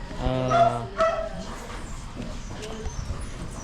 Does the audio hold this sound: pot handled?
no